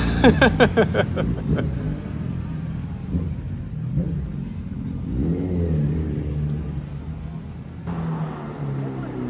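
Sport motorcycles at a Halloween street ride in a Japanese city rev their engines, a rising throaty burst at the start, then a steady rumble of idling and passing bikes under general street noise.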